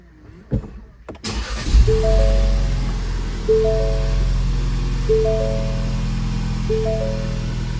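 A Ford Bronco with a 2.3L engine starts after an oil change: a click, then the engine catches and settles into a steady idle. A repeating chime sounds over the idle about every second and a half.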